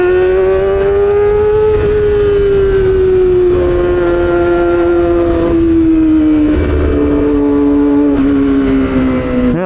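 Kawasaki ZX motorcycle pulling hard along a potholed road, a steady loud engine drone that rises and drops in pitch through quick-shifter gear changes, with wind rush and no talk.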